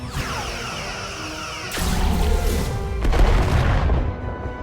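Starship weapons fire in the Star Trek: Resurgence video game, two heavy booming blasts with whooshing tails a second apart over a steady hum of engines and effects, loud and close, with no talk.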